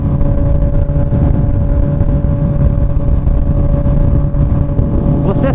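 A Honda CB 1000R motorcycle engine revs loudly and close with a steady, throaty exhaust roar holding its pitch throughout, while someone talks over it.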